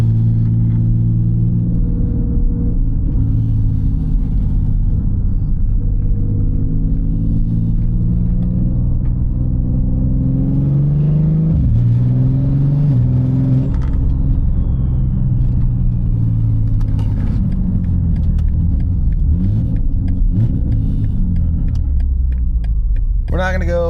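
A big-turbo BMW G80 M3 heard from inside while driving, with a loud, deep engine drone that rises and falls through revs and gear changes, steady and close throughout.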